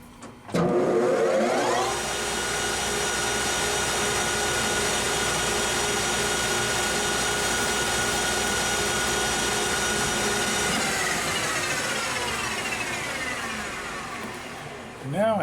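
A metal lathe chamfers an edge on a workpiece, giving a steady loud whine with a droning motor hum that holds for about ten seconds, then gradually winds down.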